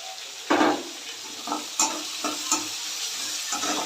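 Bitter gourd frying in a pan for gojju gives a steady, close sizzle broken by several sharp scraping stirs, with no voices.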